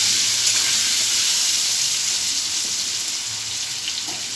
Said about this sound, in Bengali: দেখেন লাল লাল করে আলুগুলোকে ভেজে নেবো।